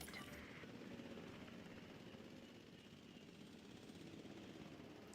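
A helicopter delivering dinosaurs in the video game Jurassic World Evolution 2 gives a faint, steady rotor and engine drone throughout, low in level and alone without talk.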